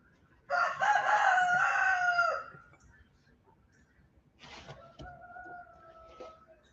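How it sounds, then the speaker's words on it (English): A rooster crows loudly once nearby, followed by a second, shorter crow a few seconds later. "that rooster right there"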